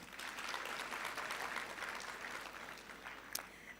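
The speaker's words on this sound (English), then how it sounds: "Another round of applause." Sustained applause from a large audience at a university graduation ceremony, a steady broadband patter of many hands clapping for the full stretch with no voices over it.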